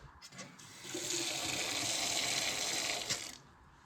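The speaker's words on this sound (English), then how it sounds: "So with the water back on now, we'll get it tested out and make sure it's all working and that we've got no leaks" Water gushes steadily through a newly fitted tap under test in a domestic plumbing job, a strong broadband rush that starts abruptly, holds for about two seconds and then cuts off, with a few small clunks around it.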